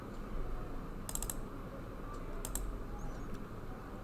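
Computer mouse clicks in an office setting, with a quick cluster of sharp clicks followed by a double click and a single later click over a steady background hum.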